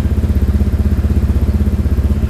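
A custom lowrider Honda Vario 125 scooter with a fully rebuilt stock engine runs at idle close by, loud, with a fast, even pulsing throb and no voices.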